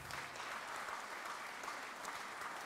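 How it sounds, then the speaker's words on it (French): An audience at the 102nd mayors' congress breaks into applause, an even, sustained wash of many hands clapping, moderately distant and fairly quiet, with no break throughout. "On peut applaudir effectivement."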